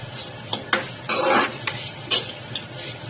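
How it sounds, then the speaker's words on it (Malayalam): Onions with a pinch of salt sizzle in a pan, heard through a steady fry punctuated by several brisk stirring scrapes, with one longer burst of sizzling midway; no talking. "കുറച്ചും കൂടി സബോള ഇതിൽ വഴറ്റാൻ വേണ്ടിയിട്ട് ഇടാം."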